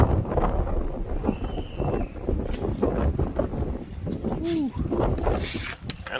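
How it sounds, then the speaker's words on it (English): Strong gusty wind buffets a microphone outdoors near a garage during a DIY woodworking build, a constant low rumbling roar that swells and dips, with faint background noises mixed in. "Kind of windy today."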